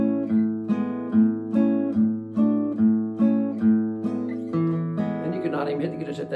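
An acoustic guitar strums Coal Holler chord shapes with an open string, in a steady rhythm of repeated strums that ring on between hits, close and clear, with no talking.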